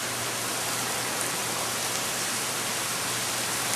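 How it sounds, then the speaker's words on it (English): Hurricane Dolly wind drives sheets of rain in a steady, dense wash of hiss, loud and unbroken for the whole stretch, with no voices. "The wind is blowing sheets of rain around"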